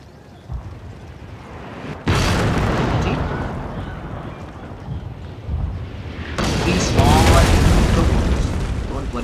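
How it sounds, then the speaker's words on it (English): Artillery shells slam into a castle wall during a siege in Total War: Fall of the Samurai: two heavy, close booms, each followed by a long rumbling roar of debris and battle noise. "People are going to be killed due to the artillery shell hitting the wall."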